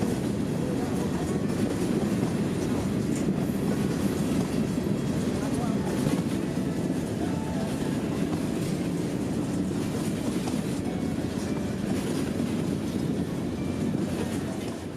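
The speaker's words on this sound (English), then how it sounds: "all being passed by a storage train" A storage train rumbles past on the rails, a steady low roar with clickety-clack wheel noise lasting throughout, moderately distant with some wind buffeting.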